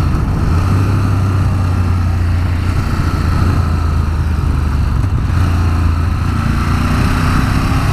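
A 2018 Ducati Monster 1200S motorcycle on the road, its engine droning loud and steady with wind rush and a low rumble that rises slightly in pitch near the end.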